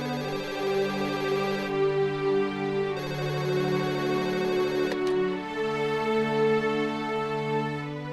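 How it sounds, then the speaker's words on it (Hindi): A telephone rings steadily in a domestic drama scene, a continuous electronic ringtone with sustained tones that change pitch in repeating phrases, fairly loud and alone without talk. "उठाओ फोन।"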